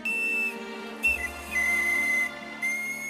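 A reconstruction of a 7,000-year-old bone flute plays a few breathy, sustained whistling notes, clear and fairly close, each held briefly with short pauses between phrases.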